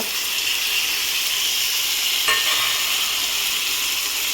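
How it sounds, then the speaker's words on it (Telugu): Onions frying and being stirred in a pan for curry make a loud, steady sizzling hiss with no break, plus a faint scrape of the spoon partway through. "ఇది కొంచెం ఫ్రై అయిన తర్వాత ఆనియన్స్ అయితే వేసేసుకుందామండి"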